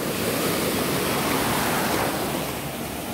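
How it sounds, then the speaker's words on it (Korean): Ocean waves wash onto the beach at Daecheon in a steady, loud, broad roar of surf with no talking. "자, 파도."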